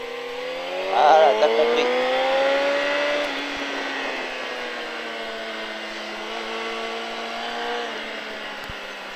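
Motorcycle engine accelerating on the Le Vigeant race track, a steady rising drone with harmonics climbing early, then holding high, with a coach's voice talking over it throughout.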